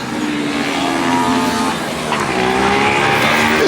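A car with an LS3 engine revs and accelerates at a car show, a continuous loud roaring drone with rising and falling pitch, close by and dominating the scene, no talk over it.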